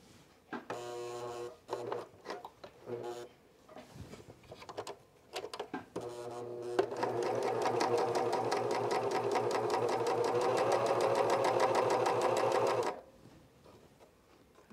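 Cover stitch sewing machine fitted with a binding attachment runs fabric through, with a few short bursts of stitching first, then a long steady loud run of rapid mechanical clatter before stopping.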